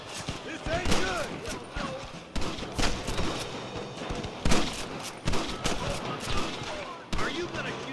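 Red Dead Redemption shootout against rustlers, with dense gunfire bursts and overlapping shots mixed with shouting game voices and action noise throughout.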